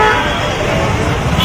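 Heavy market traffic jam with honking, a dense roar of vehicles and horns close around, with voices talking over it.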